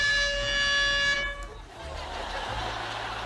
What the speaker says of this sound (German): Ivo, du kannst jetzt entsichern und auf das Tröten geht's los.